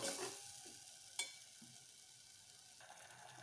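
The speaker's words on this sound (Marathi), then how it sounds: "परत चांगलं फ्राय करून घेऊ" Masala gravy for mutton rasa frying in a pan after a splash of water, a soft, steady sizzle close by with a couple of faint stirring knocks, no talking.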